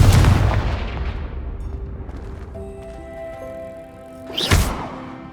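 A Confringo spell detonates in the video game Hogwarts Legacy: a loud booming blast that rumbles and decays over a couple of seconds, followed by lingering tonal game effects and a second sharp burst near the end.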